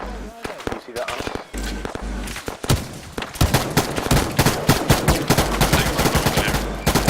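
Rapid machine gun bursts in the military video game Typhoon Rising, loud and close, with short bursts at first and then sustained heavy firing, plus brief gaps between volleys.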